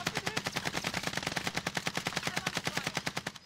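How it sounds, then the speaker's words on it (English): Rapid automatic gunfire in a video game firefight, with rounds fired through a fence: a fast, steady stream of close, loud shots with an even rhythm that keeps up for several seconds, alone without talk. "they're shooting through the fence"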